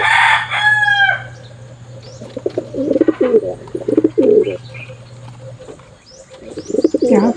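Young pigeons being banded give soft throaty coos in a string of short bursts, close and clear, after a brief higher call at the start.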